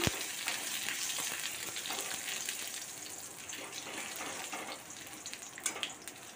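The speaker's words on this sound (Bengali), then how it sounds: "তার মধ্যে আমি আদাটাও দিয়ে দিয়েছি, তেজপাতা দুটোও দিয়ে দিলাম। বেশি ভাজবো না।" Ginger and two bay leaves fry in hot oil, a steady close sizzle with light crackle running the whole time and a few small stirring scrapes near the end.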